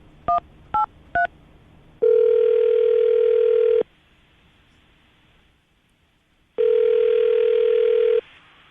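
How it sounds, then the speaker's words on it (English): Three short touch-tone beeps are keyed on a telephone, then two long steady ringback tones sound with a pause between them, clear and fairly loud. "I'm going to dial the phone number right now."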